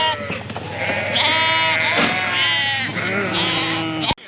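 A sheep with tar-blackened wool on her back bleats loudly and close, one long wavering bleat followed by a second, the sounds of a farmyard handling session.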